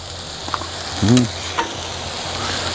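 Cheese sizzles on a VEVOR 21-inch commercial electric griddle, a soft steady frying hiss with a brief louder crackle partway through, close by and without talk.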